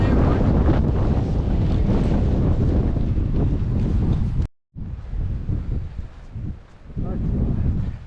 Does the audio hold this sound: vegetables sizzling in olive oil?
no